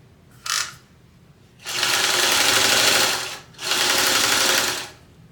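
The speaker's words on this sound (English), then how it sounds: "we're going to head over to the machine and we're going to sew that together at 3/8 of an inch seam" Sewing machine stitching a 3/8-inch seam on a slip pocket, a quick short whir followed by two longer steady runs of rapid mechanical clatter with a short pause between, close up.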